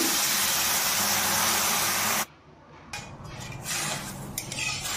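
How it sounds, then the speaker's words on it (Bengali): Water gushes with a loud hiss into a pot of fried moong dal for about two seconds, then stops. Quieter metallic clinks and scraping of the pot follow. "এবার তার মধ্যে আমি জল দিয়ে ধুয়ে নেব ভাজা মুগ ডালগুলি"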